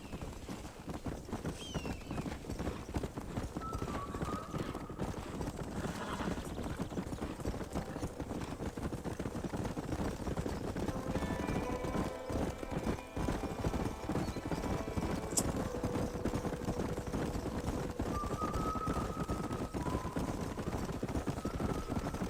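Horse hooves clip-clop steadily through the Red Dead Redemption 2 video game, a continuous moderately loud trotting rhythm with occasional neighs and whinnies mixed in.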